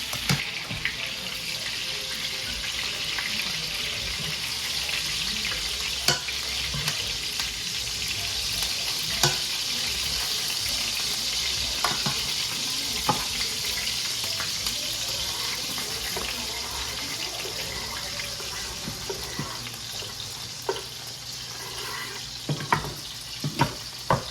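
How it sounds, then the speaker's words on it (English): Onions, garlic and mushrooms sauté in a pan with a continuous soft sizzle, broken by occasional clicks and scrapes of a utensil stirring, while running water from a tap hisses in the background. "saute the onions, garlic, and then I'll add the mushrooms shortly after and start assembling the sauce"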